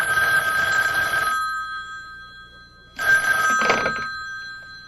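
Old-style telephone bell ringing in a radio mystery drama scene, two bursts of loud bright ringing separated by a pause, close and alone without voices.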